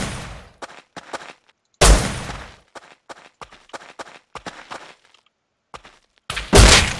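Gunfire in a raid in a multiplayer shooter game: a few loud, sharp shot bursts stand well apart, with softer thuds and footstep-like taps scattered between them. No one speaks.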